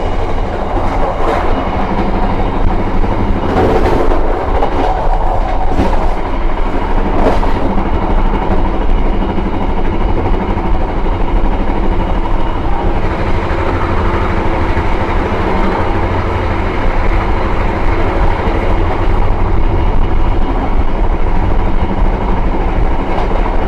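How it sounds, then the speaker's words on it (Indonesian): Riding aboard the Madiun Jaya executive-class train, a loud continuous rumble of wheels on rails fills the carriage, with faint rhythmic clacks and rattles over the steady roar. "Baru saja kita menyusul kereta api Pasundan yang tadi melintas"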